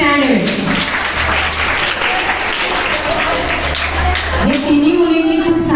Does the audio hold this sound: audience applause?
yes